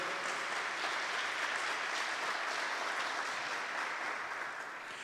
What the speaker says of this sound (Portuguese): Pode aplaudir também, pode aplaudir.